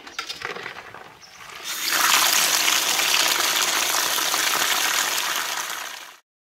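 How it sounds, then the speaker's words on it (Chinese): Running water gushes steadily over boiled farmed snails as they are rinsed, starting with lighter splashing and rising to a loud, continuous rush before cutting off. "捞起来清洗一下。"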